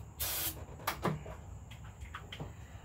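Short bursts of aerosol spray aimed into an engine while checking for a fuel leak, one longer hiss followed by a couple of brief squirts and faint clicks, quiet and close.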